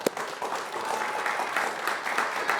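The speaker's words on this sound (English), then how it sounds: "Could we have a round of applause for both teams?" A high school quiz-match audience applauds both teams, a steady wash of many hands clapping at moderate loudness, continuous throughout with little speech.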